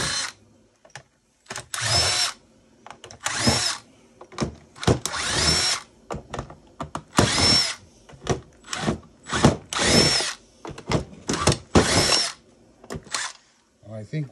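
A power drill with a CRVT10 bit removes screws from e-waste, spinning in repeated short bursts separated by pauses, fairly close, with occasional talk between runs.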